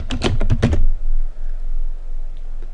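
Quick typing on a computer keyboard, about half a second of close, crisp key clicks in a fast cluster, then near silence with faint room noise.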